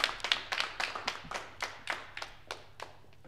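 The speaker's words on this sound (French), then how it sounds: "Alors, on applaudit à nouveau." A small live studio audience claps sparsely during a French broadcast, a handful of separate, fairly soft hand claps spaced irregularly, fading out, with no voices over them.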